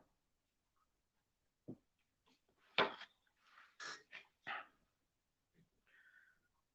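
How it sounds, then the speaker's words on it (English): A dog barks somewhere in the distance late at night, giving about five faint, scattered barks and yips with quiet pauses between them. "I hear my dog still barking."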